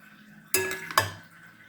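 Metal utensils clink against a dish while stirring and mixing Kabyle thamaqfolt with date oil, two sharp close knocks a moment apart with a little scraping between.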